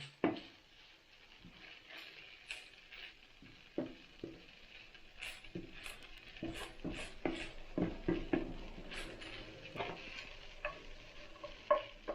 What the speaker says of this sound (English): Again, mixing everything well.